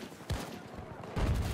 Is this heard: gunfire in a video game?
yes